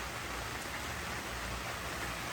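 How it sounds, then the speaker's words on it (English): Rain falling steadily outdoors, a soft, even hiss of drops spread across the whole moment, fairly faint and unbroken, with no voices. "I'm going in the house because it is raining."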